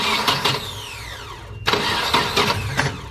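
A Nissan 240SX engine cranks over during a compression test, with the starter churning in a rapid, uneven rhythm, a brief pause and then cranking again, loud and close.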